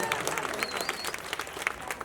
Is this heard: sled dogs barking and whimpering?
no